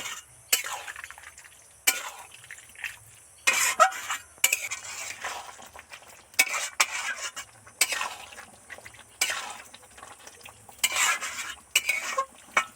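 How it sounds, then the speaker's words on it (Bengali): A spoon stirs snake gourd and poppy seed curry in a pan, scraping and clinking against the metal in repeated short strokes at close range, over a faint background sizzle. "এবার ভালো করে নেড়ে চেড়ে মিশিয়ে একটু জোরে জাল দিয়ে দেবো"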